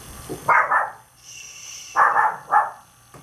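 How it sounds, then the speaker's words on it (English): Dogs in a house bark a few times, two short bursts with a pause between, moderately loud and somewhat muffled, with a faint high tone in the background. "the dogs like to bark at anybody in sight"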